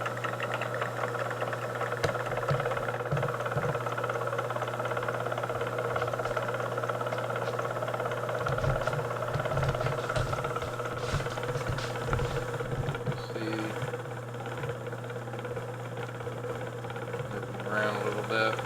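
A die filer driven by two belts and a clutch runs with a steady low motor hum and mechanical chatter, while voices talk over the machine.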